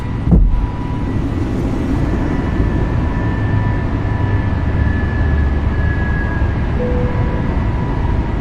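Inside the cockpit of an A32NX airliner in Microsoft Flight Simulator, the landing gear retracts just after takeoff with a thump, then a loud, steady rumble and hum of engine and airflow continues throughout.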